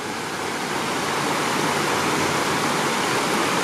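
A creek rushes toward a nearby waterfall on rural property, giving a steady, dense roar of flowing water that stays close and unbroken throughout, with no voices heard.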